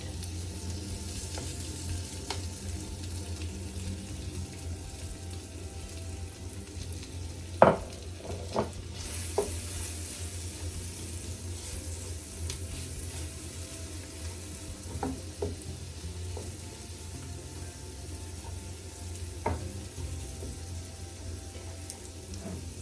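Garlic and pimento seeds sauté in a pan for a Jamaican-style steamed fish with okra in coconut sauce, giving a steady close sizzle with a few sharp utensil clinks and stirring scrapes.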